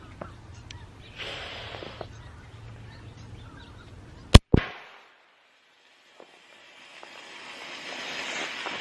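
A single sharp, loud pop from a flare gun being fired, followed by a brief echo, with quiet breathing and faint rustling before and a soft hiss of wind afterward.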